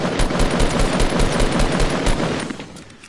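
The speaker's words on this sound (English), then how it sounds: "the guy on the mountain is shooting at the other" Rapid bursts of automatic gunfire from a player up on a mountain in a multiplayer shooter game, loud and dense, rattling almost without pause before trailing off near the end.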